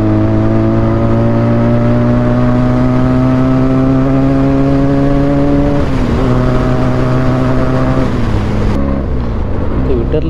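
A Benelli motorcycle engine runs steadily with a loud, even drone that holds through most of the stretch, then dips and shifts near the end.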